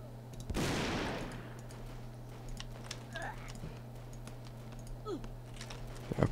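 A single loud video-game gunshot in Brickforce bursts out early, followed by scattered clicks and small distant pops while a voice talks quietly underneath.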